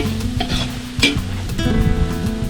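Beef lung frying in hot oil, a steady loud sizzle with stirring and clinking of a utensil in the pan, no talking.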